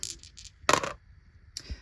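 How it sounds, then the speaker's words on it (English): Two dice clatter onto a hard surface, a quick burst of bright rattling hits, then a short tumble and a final small clack, close and crisp with no speech. "I've got my 2 dice. Let's do roll number 1."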